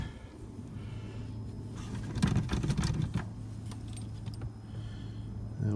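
Keys jangle in the ignition of a rear-wheel-drive 3000GT, a brief close metallic rattle standing out over a steady low hum inside the car, with no talking.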